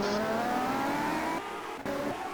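A Formula race car in a racing video game, its engine note whining at high pitch and wavering as the car spins, with a brief cut partway through.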